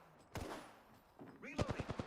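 In a video game, enemies open fire with a quick, rapid run of gunshots near the end. A voice speaks just before and partly over the shots, and an earlier single crack sounds faint.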